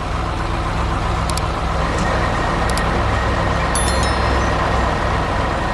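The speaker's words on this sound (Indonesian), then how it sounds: "itu pengaduk semen yang sedang bekerja keras membangun jalan untuk kita semua" Green animated cement mixer truck at work on road construction, a loud steady engine drone and rumble throughout, with a few brief high beeps or squeals near the middle and end.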